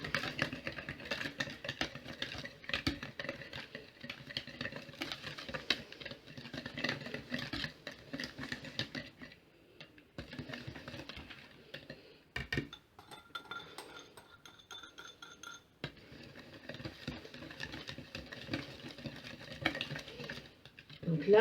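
Bath bomb mixture being whisked in a bowl for homemade bath bombs, giving a steady, busy scraping and clinking of the whisk against the bowl with a brief pause partway through.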